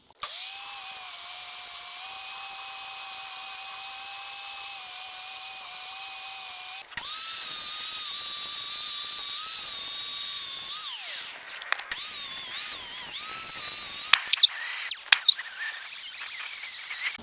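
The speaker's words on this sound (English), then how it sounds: "I got the flap disc and the grinding wheel after that, and got the bad spots of rust down to metal." An angle grinder fitted with a flap disc and a grinding wheel works rust off the wheels of a used U-Haul tow dolly, giving a loud, steady high whine that briefly cuts out and shifts pitch as it bites.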